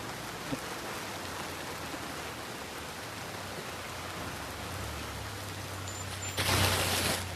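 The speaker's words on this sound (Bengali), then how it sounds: "এই বৃষ্টি বেশিক্ষণ হবে না" Steady rain pours down beneath a flyover in Kamalgazi, a dense even hiss that holds for the whole stretch, a low engine hum joins partway through, and a louder burst of rain noise swells near the end.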